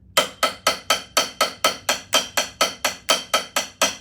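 A drum is struck in an even run of sixteenth notes in 4/4, sixteen crisp, evenly spaced hits over about four seconds, loud and close with nothing else playing.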